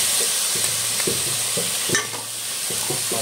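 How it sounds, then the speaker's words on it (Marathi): Tomato and garlic fry and sizzle in a pan with a steady hiss, while a utensil stirs in regular, repeated scraping strokes. "टोमॅटो आणि लसूण घालून घेतली आहे आपण. तर चांगलं आपण भरपूर भाजून घेऊया."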